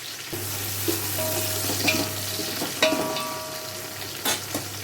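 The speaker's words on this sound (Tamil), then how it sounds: "வெங்காயம் நல்லா கோல்டன் ப்ரௌன் ஆகிக்கிட்டு இருக்கு" Onions frying in oil with mint leaves and green chillies for biryani, a steady sizzle with stirring scrapes and clinks of a spoon against the pan, no voices.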